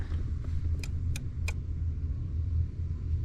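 An AMC Pacer idles with a steady low engine rumble, close by, with a few brief high clicks or squeaks over the running motor.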